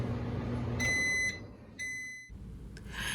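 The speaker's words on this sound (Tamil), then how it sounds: "இப்போ மறுபடியும் மைக்ரோவேவில் வச்சிடலாம்." A microwave oven hums steadily while heating milk for paal kova, then gives two short, high electronic beeps, and a door click or clunk follows near the end.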